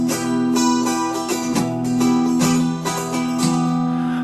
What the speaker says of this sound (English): So if I was to play without muting effects